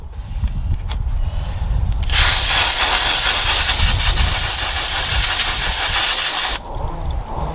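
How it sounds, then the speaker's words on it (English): Water sprays in a loud, steady hiss for several seconds while a brush is rinsed out during tyre cleaning, with quieter handling sounds before and after. "Let's just rinse my brush out."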